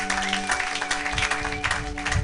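A church congregation applauding together, dense steady clapping from a crowd, close and fairly loud throughout, with some voices mixed in.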